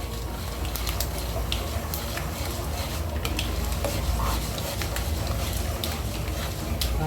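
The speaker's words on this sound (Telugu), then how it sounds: "ఇది వేగిపోయిందండి, వేరుశనగ గింజలు వేద్దాము" Peanuts frying in hot oil in a pan for upma, a dense, continuous sizzle and crackle with frequent stirring clicks and scrapes, close by and steady throughout.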